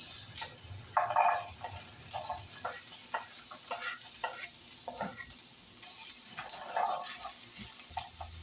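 Vegetables sautéing in hot avocado oil, a steady soft sizzle with intermittent scraping and stirring clicks from a utensil in the pan, close and moderately quiet, no talking.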